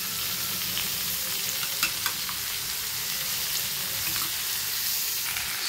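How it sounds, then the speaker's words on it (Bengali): Spice paste fries in a pan, a steady bright sizzle with occasional crackles and pops and faint scraping, close by and continuous with no talking. "এবারে পেস্ট করা মশলাগুলোকে দিয়ে দেব।"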